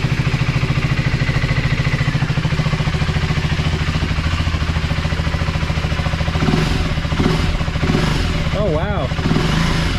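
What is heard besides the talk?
Husqvarna Svartpilen 401 motorcycle engine revving with FuelX Lite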